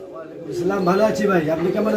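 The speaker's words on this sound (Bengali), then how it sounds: "আমি কিছু কবুতর দেখাই তো আপনারা দেখতে পাচ্ছেন" Pigeons at a pigeon loft coo in low, throaty, rolling calls that start after a brief quiet and continue close by, mixed with someone talking.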